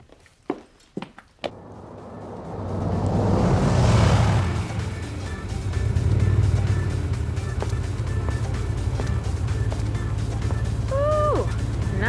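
A car engine starts after a few sharp knocks and settles into a steady low rumble that keeps running nearby, with faint clicks and a brief squeak near the end.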